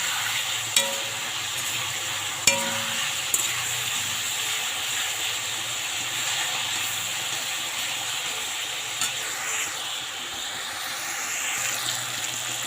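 Onion and tomato frying in ghee hiss softly and steadily at moderate distance, broken by a few sharp clicks of a spatula against the pan, with no one speaking.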